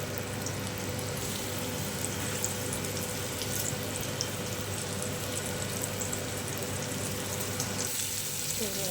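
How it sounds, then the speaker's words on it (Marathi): Pomfret fish frying in hot oil in a pan produces a constant, fairly soft sizzling hiss that carries on evenly and eases slightly near the end, with no clear voices. "तर पॅनमध्ये मी तेल घातलेलं आहे आणि आपण जे पापलेट तेल छान गरम झाल्यावरच आपल्याला टाकायचे"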